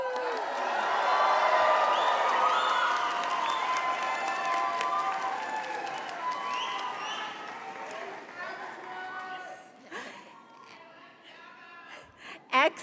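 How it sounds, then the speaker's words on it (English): A crowd at a university convocation claps and cheers for graduates, a loud, sustained wash of applause that gradually thins out toward the end. "don't be afraid to clap and cheer loudly"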